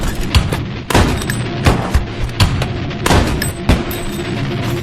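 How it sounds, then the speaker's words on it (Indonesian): Gunfire in a film scene as twelve terrorists are shot at the same moment: a dense burst of loud, overlapping shots with heavy booming impacts, repeating in several volleys over a rumbling background. "melalui komando Jagadish, 12 orang teroris itu ditembak mati secara bersamaan."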